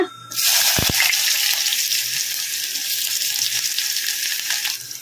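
A sudden loud sizzle erupts as onions hit hot oil already crackling with mustard and cumin seeds, settling into steady crackling frying for several seconds.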